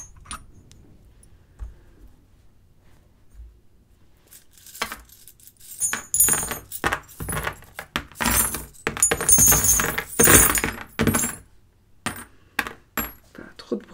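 Small metal charms jangle and clink in a hand, starting as sparse faint taps and then building into dense, close, bright rattling bursts.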